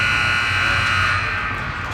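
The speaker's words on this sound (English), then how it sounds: "the buzzer goes off" A loud, steady electronic buzzer blares continuously to end a period at a junior ice hockey game in an arena, sustained and unbroken throughout.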